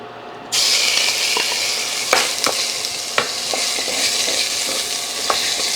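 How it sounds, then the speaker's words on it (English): Cut-up pork belly sizzling in hot oil in a pan, with a steady close frying hiss and occasional sharp scrapes as it is stirred, and no talk. "Now I'm going to saute the ingredients."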